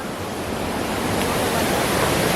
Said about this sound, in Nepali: खोला ठुलो छ।